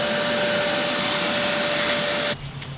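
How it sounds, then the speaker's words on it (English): A shop vac roars loud and steady while sucking up loose insulation pieces during a van build, then abruptly shuts off near the end, leaving a quieter room. "I'm getting insulation pieces everywhere. So I'm gonna go get the shop vac so I can clean this as I'm cutting it."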